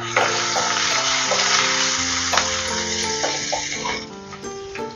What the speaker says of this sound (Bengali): এই তেলেই এবার আমি প্রথমে আলুটা ভেজে নিচ্ছি।